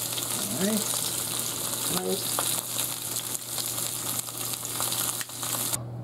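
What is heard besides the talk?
steak sizzling in frying pan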